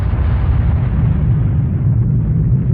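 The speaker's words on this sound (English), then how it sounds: "That sun, it exploded." A sun exploding in an audio drama, rendered as a loud, sustained low rumbling blast that roars steadily for a few seconds without fading.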